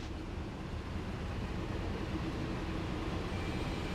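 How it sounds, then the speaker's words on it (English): A regular manifest freight train rolling past at speed, a steady, broad rumble and rattle of railcars holding level throughout with no voices. "This looks like a regular manifest train"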